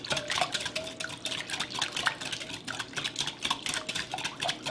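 Liquid custard poured over bread pudding in a home kitchen gives wet drips and splashes against a dish, with irregular clinks of utensils and bowls nearby and no talk.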